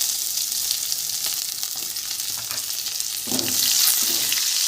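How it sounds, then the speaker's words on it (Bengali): Onion sizzles steadily in hot oil with whole tempering spices for a Bengali egg-and-potato curry, a dense, continuous frying hiss that swells louder near the end as the pan is disturbed. "ফোড়নের সাথে পেঁয়াজটা ভালো করে ভেজে নেব।"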